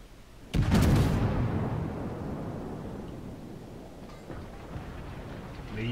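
Naval gunfire in World of Warships: one loud, close booming salvo that rolls off into a long rumbling decay, followed by a fainter distant thud.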